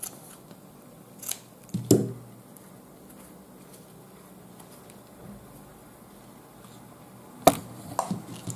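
Scissors snip through crochet yarn in a few sharp, close clicks, a pair near the start and another cluster toward the end, with quiet handling noise in between and no talking.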